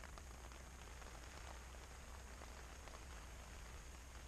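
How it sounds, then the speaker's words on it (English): Rain falls steadily on a tent during wild camping at Fleetwith Pike, a constant, even hiss of drops on the fabric with no pauses and nobody speaking. "It's still raining."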